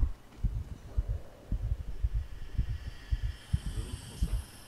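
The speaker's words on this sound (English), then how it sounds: "Oh, I just noticed a heartbeat sound." A heartbeat sound effect in a game thumps in steady low double pulses, about two per second, close and clear over a faint background hum.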